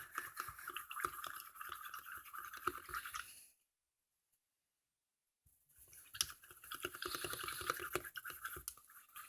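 Glue mixture for green-grape slime is stirred in a bowl, a close, steady scraping and sticky clicking that stops for about two seconds partway through and then resumes.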